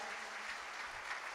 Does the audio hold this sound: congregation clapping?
yes